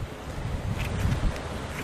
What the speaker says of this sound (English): I'm glad for that breeze, but hopefully it's not too windy on here for you guys.